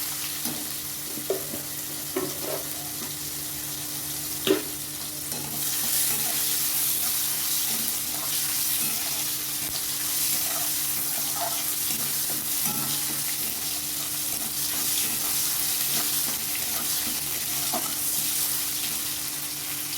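Tomato with a little salt fries in a pan, a continuous sizzle that swells after a few seconds, broken by scattered clicks and scrapes of stirring.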